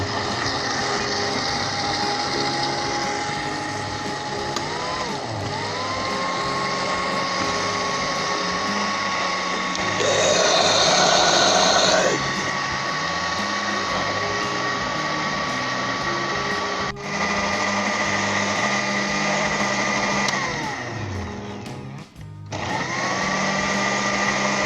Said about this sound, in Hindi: इसके बाद हाफ कप हम इसमें दूध डाल देंगे और अच्छे तरीके से इसे हम ब्लेंड करेंगे 2 से 3 मिनट के लिए।